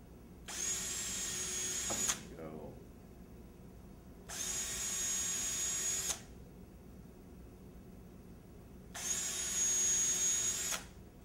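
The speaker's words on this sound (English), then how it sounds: "So we'll drill down about 1 centimeter." A power drill bores about one centimetre into wood in three separate bursts of about two seconds each, with quiet pauses between them.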